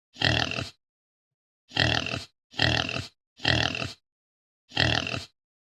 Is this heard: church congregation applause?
no